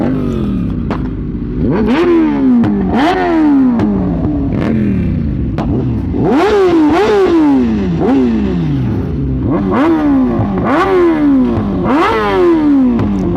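Kawasaki ZX-10R motorcycle on a group ride, engine revved loud and close in repeated sharp bursts, each climbing and falling back roughly every second or two, with crackling pops between.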